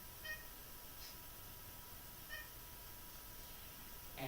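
A cat meows faintly a few times in a quiet room, short thin cries spaced over a low steady background hiss.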